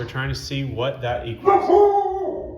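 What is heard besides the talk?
dog barking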